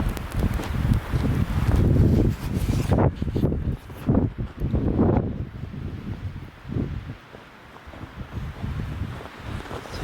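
Strong wind roars and buffets the microphone in loud gusts, rising and falling, with rustling fir trees in a logging area and no voices.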